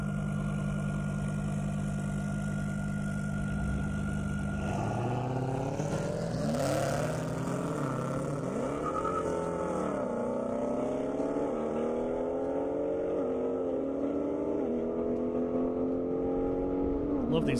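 A Lamborghini and a Dodge Charger racing on an airstrip: a steady engine drone turns into loud revving with rising and falling pitch sweeps as the cars accelerate away, holding a sustained roar to the end.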